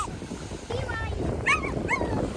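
Frightened dogs on a beach near a sea lion yelp and whimper in short rising cries, close and fairly loud, over steady surf noise while people talk.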